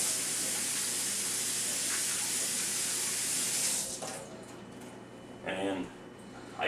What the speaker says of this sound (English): Let me wash my hands though